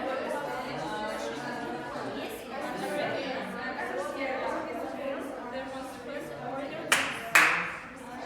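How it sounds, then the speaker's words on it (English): Two quick hand claps near the end of a stretch of classroom chatter in an English lesson, crisp and close, after several seconds of students talking. "You have to clap 10 times."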